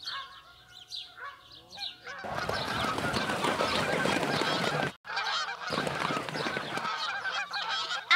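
Geese honk repeatedly in a loud flock, their calls overlapping into a dense clamor that briefly cuts off before resuming, with a few separate honks at the start.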